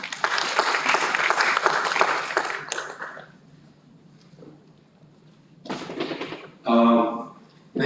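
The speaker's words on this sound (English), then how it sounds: "Please welcome her with a big round of applause" Conference attendees at a retail AI event clap for a panelist as she is welcomed, a brisk burst of applause for about three seconds that quickly fades, followed by faint shuffling and then a couple of short louder knocks near the end.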